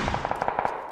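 Rapid automatic gunfire in the battle royale game PUBG: a tight burst of about eight sharp shots within a second, loud and close, with no voices over it.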